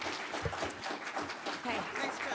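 An audience at a League of Women Voters candidate forum claps for the candidates, a dense patter of many hands heard at moderate distance and blending with voices in the room.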